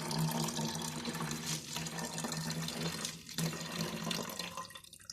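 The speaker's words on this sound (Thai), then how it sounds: "เราก็จะเท จุลินทรีย์สังเคราะห์แสงสีแดงเข้าไป" Red photosynthetic bacteria culture is poured from a bottle into a container, making a continuous splashing, gurgling stream of liquid that runs steadily with slight dips and no talk over it.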